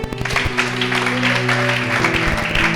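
A church congregation applauds, with dense clapping and cheering throughout over a sustained musical backing.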